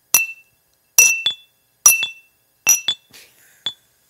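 Glasses clink together in a toast, several sharp ringing taps in quick pairs spread over a few seconds, close and clear with no talk over them.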